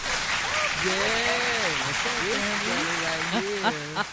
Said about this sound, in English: Let's give a round of applause for Mr. Justin Hunter.